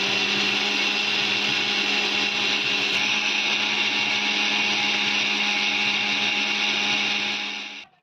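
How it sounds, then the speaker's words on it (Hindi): A kitchen mixer grinder pulverizing green chillies runs steadily at full power with a loud whirring drone, then cuts off and spins down at the very end. "तो यहाँ पर डाल ली ही मिर्ची, और इसको भी फटाफट से पीस के रख लेते हैं।"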